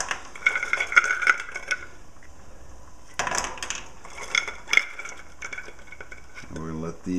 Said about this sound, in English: We're going to put these clams in here first.